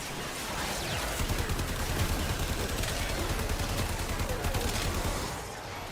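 Sustained gunfire from shooting fungal growth in Warframe, a dense, steady volley of rapid shots at a constant loud level that eases off near the end.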